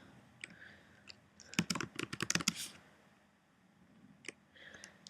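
Bursts of typing on a computer keyboard, a quick run of sharp clicks clustered in the middle, with a few isolated keystrokes before and after, close and fairly clear.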